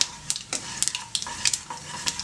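Mustard and fenugreek seeds crackle and pop in hot oil, a quick irregular sizzling with sharp bursts, close and alone.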